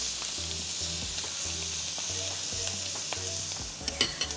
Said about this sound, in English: I'll probably do 3 chicken at a time, skin side down, straight into the pan